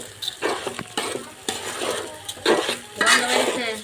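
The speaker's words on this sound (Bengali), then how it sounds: "তো আমি এগুলো 2-3 মিনিট ভাজবো চালগুলা মশলার সাথে" Rice for chicken biryani, frying with spices and five or six green chillies, is stirred in a pot: repeated close scraping strokes of a utensil against metal, with a faint sizzle underneath.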